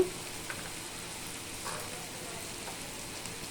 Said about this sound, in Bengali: আমি সুন্দর করে মশলাটাকে একটু ভেজে নিব